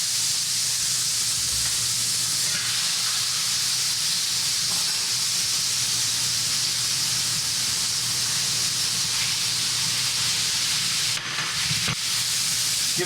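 Potatoes sizzle and hiss steadily in hot melted fat in a pan among Pacific golden chanterelles, a loud, continuous crackling sear with a few brief scrapes and bumps near the end.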